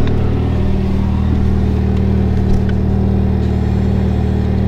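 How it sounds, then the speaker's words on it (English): A car engine with stock exhaust hums at a steady, loud idle with a deep droning tone, a slight blip of revs partway through, close by. "It sounds so good with the stock exhaust."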